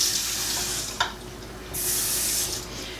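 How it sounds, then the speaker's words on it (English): Filtered water poured into a jar to make a brine for fermented corn and black bean relish, a steady hissing splashy stream heard in two bursts with a short pause and a small clink between them. "I'm going to add just a little bit of water, and this water cannot have chlorine in it."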